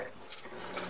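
Warm water runs from a tap in a steady, hissing splash as a Dyson V6 cordless vacuum part is rinsed, fairly close and continuous for a brief moment.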